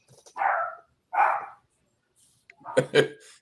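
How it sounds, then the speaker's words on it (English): A dog barks for attention in a few short, separate bursts, with people talking nearby between and over the barks. "the dog wants some attention"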